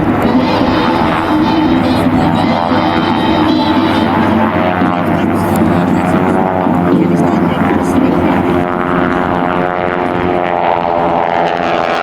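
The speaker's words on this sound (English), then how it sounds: "Noisy airplanes indeed." SNJ World War II trainer warbirds fly over an airshow at MCAS Beaufort, their radial propeller engines droning loud and continuous throughout while an announcer talks over the noise.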